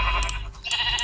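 Short, nasal sheep bleats from Minecraft sound twice in quick succession over a low background hum, close and fairly loud.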